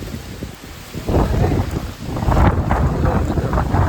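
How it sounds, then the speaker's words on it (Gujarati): A strong windstorm blows in heavy rumbling gusts that batter the microphone, rising after the first second and staying loud and turbulent to the end, with no clear talking. "આવું છે વાવાઝોડું લાઈવ વાવાઝોડું તમે બધા જોઈ શકો છો"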